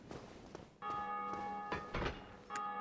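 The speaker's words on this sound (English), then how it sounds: "That bell sure does ring a lot." Bell tolling in Dark Souls Remastered, two sustained ringing strikes at moderate distance, mixed with dull thuds and ambient game sounds.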